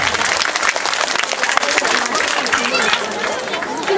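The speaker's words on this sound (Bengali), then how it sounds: "সবাই একটু জোরে হাততালি দেবেন।" Loud, continuous applause from an audience at a primary school's annual cultural function, dense clapping sustained throughout with some crowd chatter mixed in.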